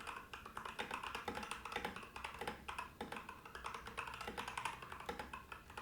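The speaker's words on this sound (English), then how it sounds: "I'm going to pull something up and we're going to start typing." Computer keyboard being typed on from about two feet away, a steady run of quiet, fast clicky keystrokes with no talking.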